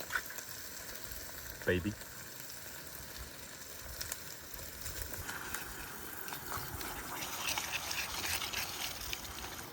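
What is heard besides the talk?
chopped tomatoes cooking in a pan on a camp stove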